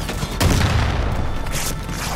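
A Far Cry 5 gunfight rumbles with a loud, dense barrage of booming shots that sounds close and runs through the whole stretch, with a sharper burst late on.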